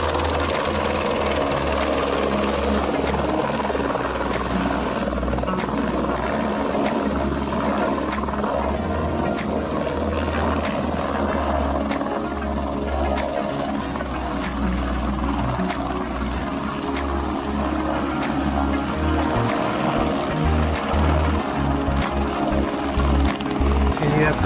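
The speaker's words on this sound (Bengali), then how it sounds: "হেলিকপ্টারে নিচ থেকে যখন উপরে ওঠে, 6জন মানুষকে নিয়ে উপরে ওঠে" A helicopter lands and lifts off at Kedarnath among the mountains, its rotor beating loud and steady throughout, with voices talking over it.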